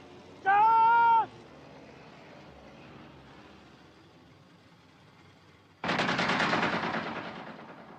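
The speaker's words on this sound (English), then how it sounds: "Maybe warning shots, sir." Bursts of warning gunfire in a desert battle, a sharp loud volley breaking out and rolling on for a couple of seconds, following a brief high whistling tone and quiet stretch.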